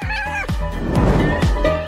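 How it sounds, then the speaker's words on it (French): A kitten meows in a run of short, bright cries, several in quick succession at close range, with a little background noise between the calls. "C'est le chat le plus extraordinaire du monde."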